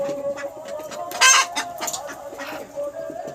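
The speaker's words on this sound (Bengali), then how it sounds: "দেশি মুরগি এটা।" Native breed chickens, including a pure white hen, clucking close by in repeated short calls, with a louder burst like a crow partway through, alone without talk.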